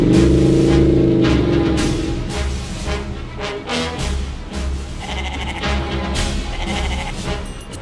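Goat bleating loudly and close by, a drawn-out wavering cry at the start followed by further shorter bleats over a busy background.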